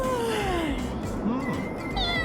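A cat meows several times in drawn-out, sliding cries, close by, while a voice speaks underneath and other faint sounds sit in the background.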